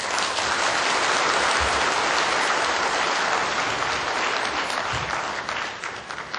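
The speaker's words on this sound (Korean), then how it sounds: "다시 한번 뜨거운 박수 부탁드리겠습니다" Sustained audience applause at a Korean civic ceremony, the 2013 launch event of a civil society watchdog group, steady and dense throughout, thinning slightly toward the end.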